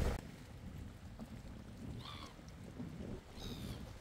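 Soft, continuous water wash and wind rumbling against the microphone at a New Zealand shore, with a couple of faint high seagull chirps in the background.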